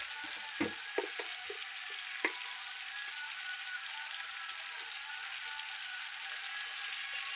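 Homemade red chili powder, about one and a half spoonfuls, dropped into hot oil that already holds turmeric, before eggplant goes in. It makes a soft, steady sizzle with a few small crackles and clinks near the start.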